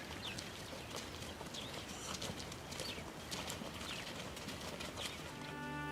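Horses walk during an outdoor film shoot in Namibia, their hooves clip-clopping in an irregular rhythm at a moderate distance, with birds calling through a faint open-air ambience.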